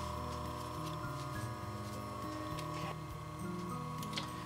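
A sewing machine stitches cork fabric for a cosmetic bag, humming steadily at a moderate level, with faint ticking and shifting motor tones throughout.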